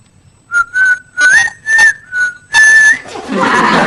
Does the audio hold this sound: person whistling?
yes